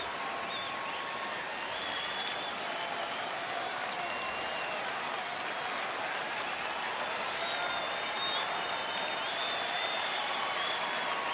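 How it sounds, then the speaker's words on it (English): Sellout baseball stadium crowd cheering in the ninth inning of a Mariners at Rangers game, a steady, dense roar of applause and cheers with faint whistles running throughout, loud and sustained. "Crowd starting to get into it here in the ninth inning."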